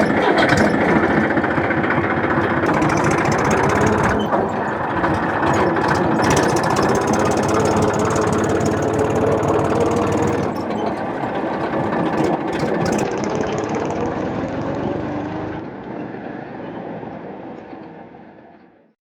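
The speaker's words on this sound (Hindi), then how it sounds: "तू ट्रैक्टर चला रे" A farm tractor engine runs in a rural Bundelkhand setting, a loud, steady mechanical drone with rattling, holding for most of the stretch before fading away at the end.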